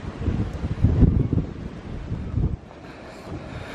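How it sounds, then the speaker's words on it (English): Gusty wind buffets the microphone outdoors at a ruined castle beside an airport, a loud low rumble in uneven surges that eases to a steadier roar after a few seconds, with no talk. "Hope it just doesn't upset the audio too much as I come around here and the wind blows"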